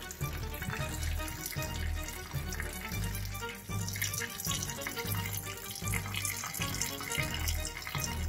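Water drains from an RV tank, running and splashing steadily, a continuous rushing flow with gurgling pulses, close and fairly loud.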